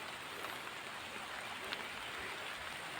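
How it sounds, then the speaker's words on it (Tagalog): Steady rain falling on a garden outdoors, a continuous even hiss with faint scattered drops and no voices. "Nag-ulan na dayon."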